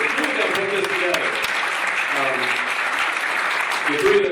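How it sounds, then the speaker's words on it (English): Audience applause at a pow wow event, steady dense clapping throughout with voices mixed in underneath. "give him a round of applause"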